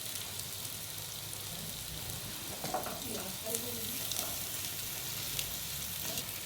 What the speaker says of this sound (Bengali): এখন আমি এতে দিয়ে দেবো আলু, সিদ্ধ করে রাখা আলু